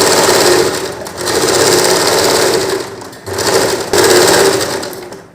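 A sewing machine stitches cloth at a loud, fast, steady buzzing whir in long runs, broken by brief pauses as the fabric is turned.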